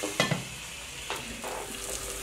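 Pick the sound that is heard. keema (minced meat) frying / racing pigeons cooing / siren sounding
keema (minced meat) frying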